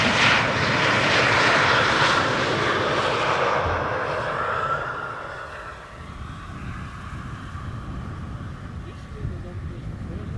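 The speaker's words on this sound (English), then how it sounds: "The last glide slope shot of today, 2 777-200ers, both KLM." A KLM Boeing 777-200 on final approach to Amsterdam Schiphol's Polderbaan on a hot, sunny day, its loud jet roar swelling and then fading as it passes, with a person talking over it.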